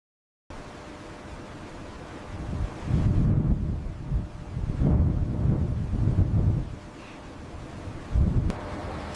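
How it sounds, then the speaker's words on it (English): Wind rushes across a microphone high on a bridge under construction above an estuary, rising and falling in blustery gusts of broad noise. "the wind begins to pick up"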